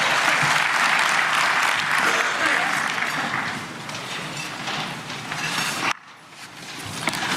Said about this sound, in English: Round of applause for the first daughter.